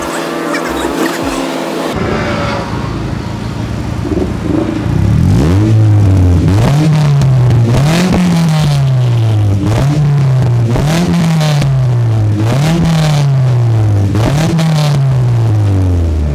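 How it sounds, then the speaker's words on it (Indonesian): A Mitsubishi Eterna engine revs repeatedly through an aftermarket exhaust, loud and throaty, rising and falling in a steady rhythm of throttle blips, close by and alone. "Kalian denger sendiri ya. Nih, gua geber."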